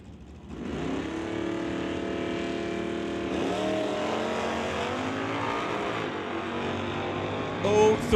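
A Pontiac Phoenix and a Chevelle launch side by side at an NHRA Summit ET drag strip, their engines roaring loudly and steadily as they accelerate away down the track.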